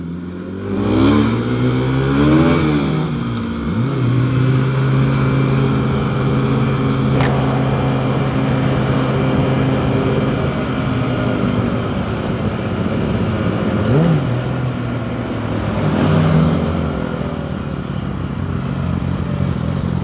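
A Yamaha R6 sport bike on a city ride, its engine loud and close throughout, revving up and down through several rising and falling sweeps as it accelerates and shifts.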